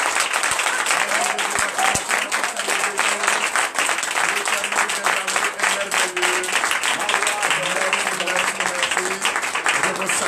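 A Sunday church congregation in Comè, Benin, claps and acclaims loudly and continuously, a dense wall of hand claps with voices calling out underneath throughout.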